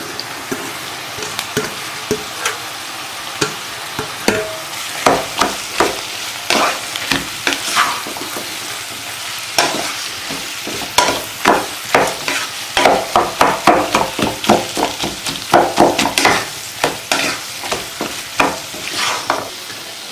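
Mashed boiled potatoes are stirred into a pan of puri palya, giving a steady run of wet, squishy scraping strokes over a faint sizzle, close and fairly loud, with no talking.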